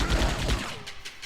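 Rapid bursts of gunfire from the Die Hard video game crack out loudly in the first half-second, then give way to a fainter, lingering tail.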